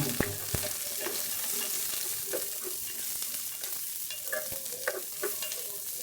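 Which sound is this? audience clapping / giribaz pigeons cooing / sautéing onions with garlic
sautéing onions with garlic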